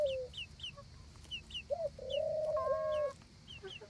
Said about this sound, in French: je vais vous montrer les deux petits poussins que j'ai eu en couveuse